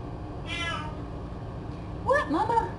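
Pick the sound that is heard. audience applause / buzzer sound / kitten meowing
kitten meowing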